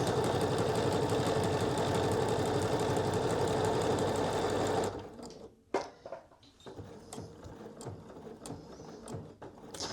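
Sewing machine stitching buttonholes in a Cashmerette Osgood skirt, a dense rapid mechanical whirr running steadily for about five seconds, then stopping abruptly, followed by quieter clicks and handling noises.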